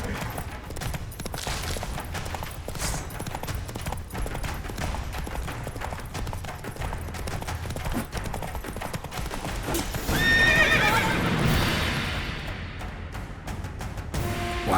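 Roach, the horse in The Witcher 3 game, gallops with rapid rhythmic hoofbeats and lets out a loud whinny near the end, heard up close over a busy game soundscape.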